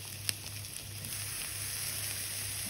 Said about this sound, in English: I'm going to add my potatoes